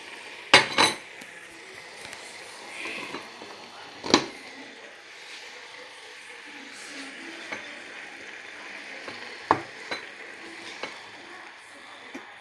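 Eggs going into a pan for a spinach omelette, a low steady frying hiss with scattered clanks of utensils against the pan, a few louder knocks spaced through the stretch.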